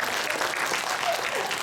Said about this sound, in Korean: 새로운 친구들 제가 이름 못 물어봤는데 박수 한번 쳐주세요